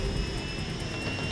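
A lifeguard rescue helicopter at a San Diego beach, landing and lifting off with lifeguards on its skids, gives a loud, steady rotor and engine drone with a thin whine on top, close by with no voices.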